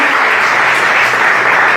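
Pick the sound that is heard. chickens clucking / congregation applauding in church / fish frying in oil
congregation applauding in church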